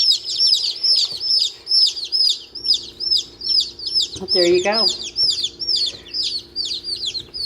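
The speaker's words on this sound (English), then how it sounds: "Buckeye chickens." Buckeye chickens chirp and cluck in rapid, repeated high calls throughout, close by, while a person speaks briefly midway.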